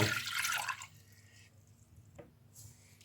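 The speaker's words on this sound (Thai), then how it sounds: "ใส่น้ำเปล่าลงไปเลยค่ะทุกคน" Plain water pours into a cooking pot for tom yum soup in a brief rushing splash lasting about a second, then fades to quiet drips and a faint trickle.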